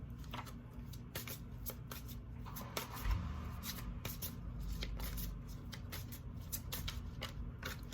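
Rapid riffling and flicking of playing cards being shuffled close up, a steady run of crisp snapping clicks with no voices.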